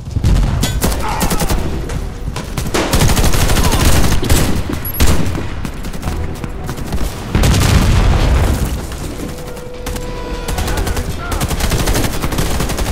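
Rapid bursts of automatic gunfire and booming shots crackle loudly and almost without pause in an online match of the shooter game Warface, with sustained volleys rising and falling across the scene.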